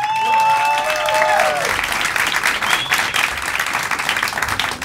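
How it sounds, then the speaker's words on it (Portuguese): A comedy show audience greets the comedian with a steady wash of applause, with a speaking voice over the first second or so before the clapping carries on alone. "Muitos aplausos para Alisson Castro!"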